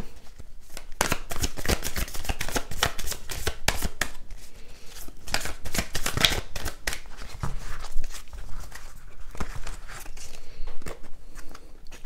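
Oracle cards being shuffled and drawn by hand, a dense run of close, crisp riffling and flicking bursts that continues almost without pause, with no talking.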